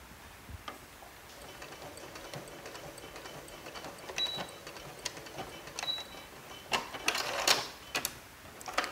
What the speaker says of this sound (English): just going to lift that presser foot, tuck it under, and away it goes